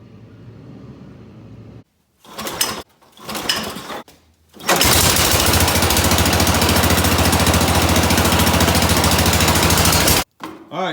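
An off-road riding lawn mower's engine starts with a few short sputtering bursts, then roars steadily at close range for several seconds before cutting off abruptly.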